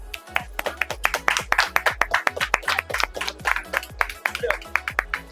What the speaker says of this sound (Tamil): கைத்தட்டலாமே, கைத்தட்டு